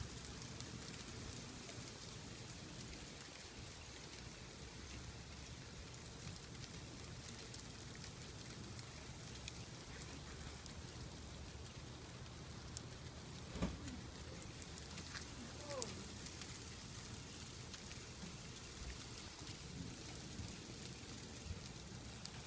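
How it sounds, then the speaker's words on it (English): Snow and sleet falling in Lower Alabama make a soft, continuous patter and hiss, faint and even, with a couple of brief isolated ticks and no voices. "Snow and sleet. Lower Alabama."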